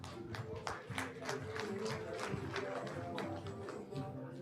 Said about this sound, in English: A round of applause to all of us.